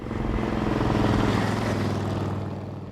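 A steady, loud Suzuki VS1400 Intruder cruiser motorcycle engine drone with a low harmonic rumble, holding constant for about three seconds with no talking.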